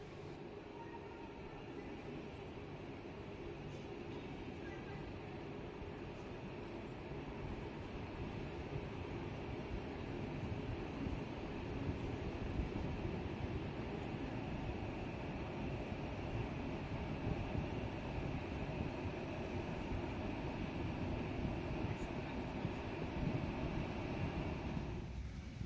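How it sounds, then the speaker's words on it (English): Night train 433 Lovćen running out of Belgrade Center, heard from inside the carriage as a continuous low rumble of wheels on track that slowly builds and stays steady for the whole stretch. "Right on time at 20 past 8, we depart Belgrade Center for a journey into the night."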